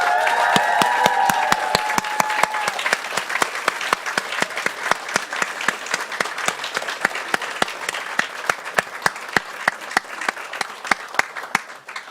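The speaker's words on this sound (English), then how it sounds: "Let's give them a round of applause." Graduation-ceremony audience at a business school gives sustained applause for the graduates' families, dense clapping that thins toward scattered individual claps by the end, with brief whistles early on.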